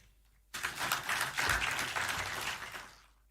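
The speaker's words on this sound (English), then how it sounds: "you may clap for him" A school audience at a Grade 9 assessment-preparedness event bursts into applause for a student. Many hands start abruptly, hold a full, steady clatter for a couple of seconds, then taper off.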